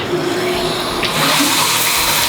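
A shower spray of water rinses a batch of rocks destined for a pet octopus's new aquarium, hissing as a steady, dense rush that swells louder about halfway through and continues to the end, close and without any talking.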